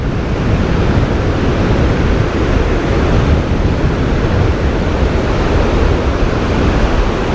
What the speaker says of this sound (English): It's the wind's picked up.